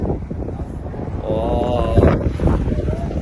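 Gusty wind in a snowy place buffets the microphone with a loud rumbling roar, while a person speaks briefly over it.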